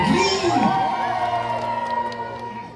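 A crowd cheers and whoops with glee, children's shrieks rising above it, at the LEGOLAND Windsor Holiday Harbour Christmas lights show; the loud burst sits close and slowly fades over a few seconds.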